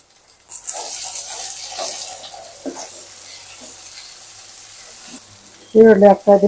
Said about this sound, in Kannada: ಹಾಗೆ ಸ್ವಲ್ಪ ಈರುಳ್ಳಿ ಹಾಕ್ತಾ ಇದ್ದೀನಿ.